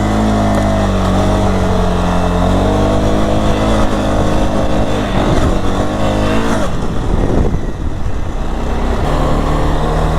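A 2023 CFMOTO CFORCE 625 ATV engine drones loudly and steadily during a test ride, its pitch shifting as the throttle changes, with rough wind and terrain noise swelling toward the end.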